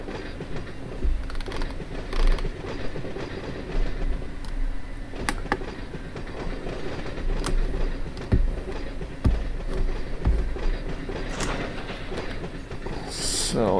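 Run8 train simulator game audio of an Amtrak passenger train arriving at a station platform, a steady rumbling rail drone with scattered clicks and clacks throughout.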